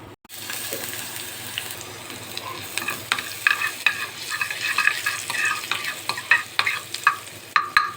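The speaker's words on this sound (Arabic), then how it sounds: "احنا بنعملها بطشة عشان تدي طعم ونكهة حلوة" A garlic-and-onion tempering for Upper Egyptian okra weka sizzles steadily in a hot pan, with a constant frying hiss and occasional sharper crackles and pops, close and alone.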